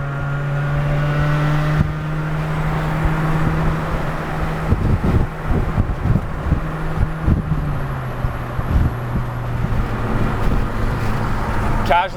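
A Honda Civic Si with a rusted exhaust cruises at highway speed, a loud, steady droning engine and exhaust note with road noise. A pitch shift comes partway through, and someone talks over it.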